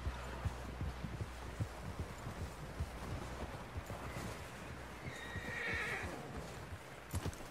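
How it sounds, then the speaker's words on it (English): In the video game Red Dead Redemption 2, a horse whinnies while hooves clop steadily on the ground, fairly quiet, with a soft rumbling background. "Someone help John down off this horse."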